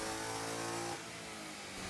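Supercharged Ford Mustang Coyote V8 running on a dynamometer at about 7 psi of boost, a loud steady high-rpm drone with strong harmonics that drops abruptly about halfway through to a lower, rougher engine sound, with no talking.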